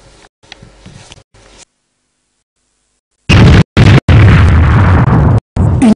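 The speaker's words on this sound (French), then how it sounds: "Une explosion entendue dans toute la ville." A loud, booming explosion heard across a whole city roars through in several heavy bursts after a few seconds of faint background noise and silence.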